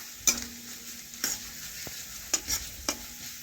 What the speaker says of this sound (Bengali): সরষে বাটা দেখুন কড়ার মধ্যে ভালোভাবে আমি ভেজে নিয়েছি